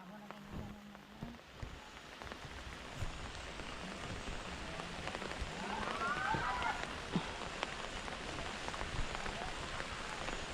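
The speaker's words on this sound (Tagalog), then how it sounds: "Ay, sana huminto yung ulan." Steady rain falls on a rural Philippine homestead where nipa is gathered for a bamboo hut, a soft, even hiss of drops that lasts throughout at low volume, with faint voices in the background.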